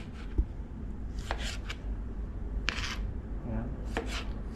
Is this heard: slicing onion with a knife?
yes